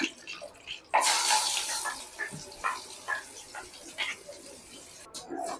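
Rinse water from a mixer jar is poured into a pan of garlic kara chutney, a splashy pour starting about a second in and trailing off into faint kitchen clatter.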